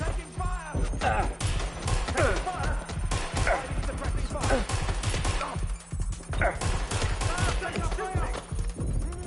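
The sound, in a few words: gunfire aimed at the player in the video game Watch Dogs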